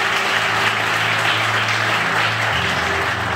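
Congregation applauding during a lively church service, dense continuous clapping with a low droning tone underneath, steady and loud for the whole stretch.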